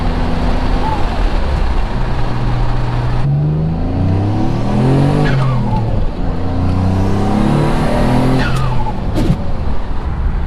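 A Mitsubishi 3000GT VR4 with a grinding third gear pulls away, its engine revving up and down through several rising sweeps over loud road noise, close to the car, without speech.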